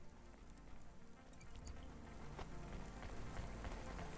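Rain in the video game Cloudpunk falls as a soft, continuous patter over a low, faint hum, with a few scattered drips and clicks.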